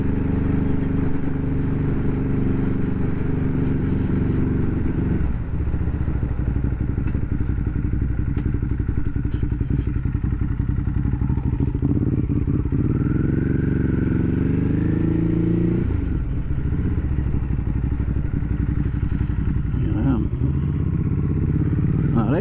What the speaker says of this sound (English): that was a little short bit of action of the Quickshifter working